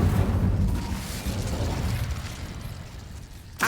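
An Incendio fire spell cast in Hogwarts Legacy, a loud, close burst of roaring flame and boom that rumbles and slowly fades over a few seconds, with a sharp new hit at the very end.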